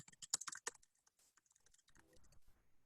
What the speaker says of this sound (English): Make sure I'm typing my email correct.